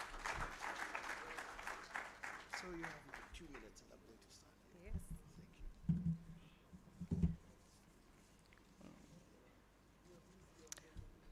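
Conference attendees at an annual directors and company secretaries conference clap for a sponsor, with a burst of applause at the start fading out within a few seconds, followed by quiet room noise, scattered bumps and someone speaking into a microphone.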